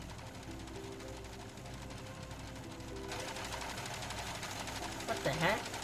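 Sewing machine running in a video game, a steady mechanical chatter that continues throughout, with a voice talking over it and a brief louder bump near the end.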